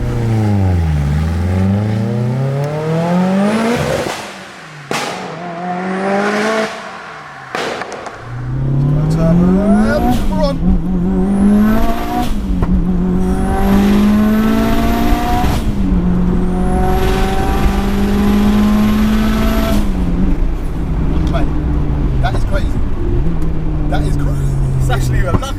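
A raw 550bhp 2.3-litre stroker Mitsubishi Evo 6 at full throttle on a wet road, engine screaming up through the revs in repeated loud climbs with brief lift-offs between gear changes, close and dominant, with people talking over it.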